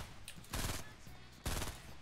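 Fortnite gunfire in two dense rapid bursts of automatic shots, each about a quarter second long and separated by a short pause, moderately loud.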